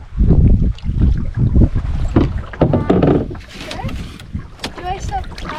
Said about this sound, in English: Do I stop paddling?